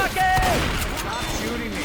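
Gunfire rattles in a zombie-survival shooter match in Left 4 Dead, with dense, rapid shots blending with game effects and a shouting player voice over the top.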